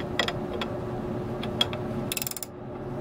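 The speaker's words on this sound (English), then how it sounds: "Okay, flip the wrench over." A wrench ratchets on a boat engine's pencil zinc, producing a few close, sharp clicks followed by a quick burst of rapid ratcheting ticks, with no talk over it.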